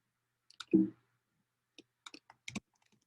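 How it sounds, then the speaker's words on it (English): Computer mouse clicking on an on-screen button, a few soft, quick, close clicks scattered across a quiet background, with one slightly fuller thump early on. "I'll go ahead and click on next on the top right"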